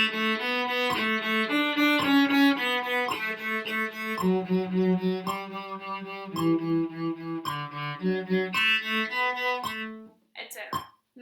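Cello playing the Scherzo in 2/4: a steady, close run of sixteenth notes, mostly pairs of repeated pitches changing every two notes, bowed briskly and continuously for about ten seconds before stopping.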